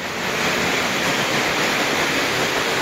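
A polluted river flows past on an island, its water a steady, dense rush that holds even and fairly loud throughout, with no voices over it.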